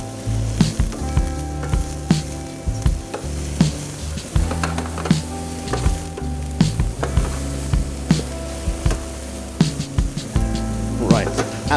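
Vegetables sizzle loudly in a hot pan while a utensil stirs them, giving repeated scraping knocks over a steady close fry; a voice talks briefly at times.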